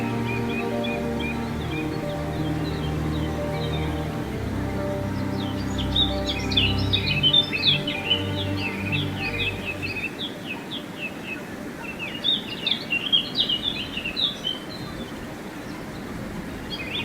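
Small birds chirp in quick bursts outdoors in nature near water, first over a steady low hum and then more clearly against a soft broadband rush, their calls moderately close and intermittent, with no one speaking.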